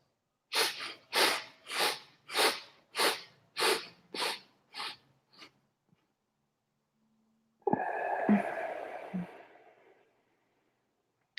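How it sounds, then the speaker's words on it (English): A rapid series of about ten quick sniffs through the nose, close and rhythmic, gradually fading. A longer, breathy exhale follows after a short pause. "10 sniffs."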